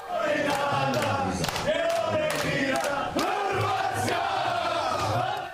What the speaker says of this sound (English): The Croatia club taking cheering to the next level.